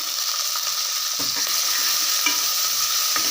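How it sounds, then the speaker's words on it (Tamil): Steady loud sizzling of two large chopped onions frying in gingelly (sesame) oil, with a few scraping stirs of a spoon or spatula through the pan. "இது நல்ல எண்ணெயில் வதக்கிடலாம்."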